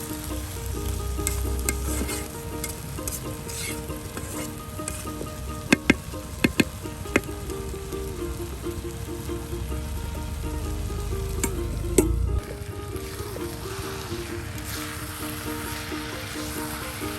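Eggs and potatoes fry in a pan over an outdoor fire on a riverside, a steady close sizzle with occasional sharp clinks of a utensil stirring and turning the food, running throughout with no talking.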